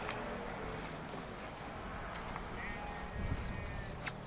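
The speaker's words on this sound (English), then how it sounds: "Can you hear the sheep?" Sheep bleating outdoors near Dolbadarn Castle, a few distant calls that rise briefly over a steady, breezy background, with one louder cluster near the end.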